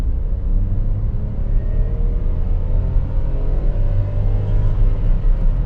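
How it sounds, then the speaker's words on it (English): Ford Freestyle 1.2-litre three-cylinder petrol car accelerating, a steady low engine rumble with a gently rising tone, heard from inside the car at a constant level with no talking. "So now I'm going to accelerate the car again and let's see."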